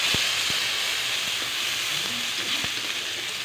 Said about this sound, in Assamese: এতিয়া সেই একেখিনি তেলতে মই দুটামান ফোৰণ দি লৈছোঁ আৰু মিহিকৈ কাটি লোৱা পিঁয়াজখিনি দি লৈছোঁ।